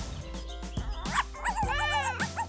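A puppy gives several short, high yips and whimpers in quick succession, close and fairly loud.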